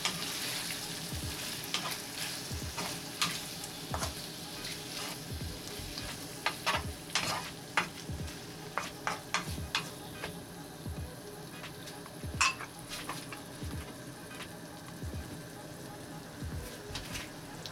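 Mushrooms sizzle in a pan, a steady hiss of frying punctuated by repeated crackles and scraping stir strokes that come and go, fairly quiet and close.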